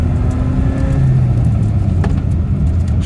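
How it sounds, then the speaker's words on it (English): A BMW E30 with a healthy 4-cylinder engine runs loud and close while driving, a steady rumbling drone with a rising tone, heard from in or near the rear-wheel-drive car on a dirt road. "you can hear that this motor is nice and healthy"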